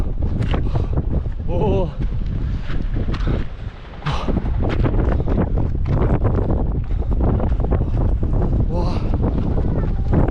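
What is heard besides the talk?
strong wind blowing on a mountain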